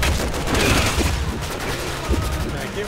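Rapid gunfire rattles through a rooftop fight in the video game Resident Evil 6, with dense bursts of shots and booms layered under a player's voice.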